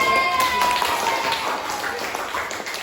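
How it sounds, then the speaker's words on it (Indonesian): A classroom of students gives a round of clapping during a lesson, a short burst of moderate hand claps with some room hum and a faint tone in the background. "kasih tepuk tangan yang meriah"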